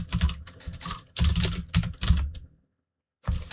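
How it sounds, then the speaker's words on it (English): Keystrokes clatter on a magnetic keyboard in quick close bursts, with short gaps, then a full second of silence before a final flurry of typing. "It's a magnetic keyboard."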